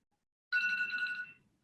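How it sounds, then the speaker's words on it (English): A phone alarm set as a speaking timer goes off during a virtual health-tech panel, a single bright electronic ringing burst of about a second that starts abruptly and then fades quietly away, alone with no voices. "That's my alarm."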